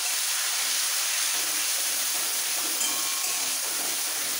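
Finely chopped onion, one large onion's worth, sizzles in hot oil for an egg curry: a steady, close, bright hiss of frying that carries evenly throughout with no talking.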